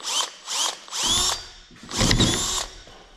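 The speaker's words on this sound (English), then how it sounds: "I over crimped this riv nut, so now I got to drill it out" Power drill boring out an over-crimped rivet nut on a Kenworth cabover truck, several short whining bursts that rise and fall, the last ones grinding heavier as the bit bites, close and loud with no talk.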